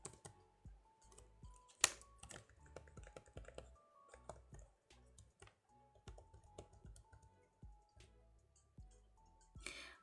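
A computer keyboard is typed on in a quiet room, close and fairly soft, with irregular runs of clicky keystrokes and brief pauses, with no talking.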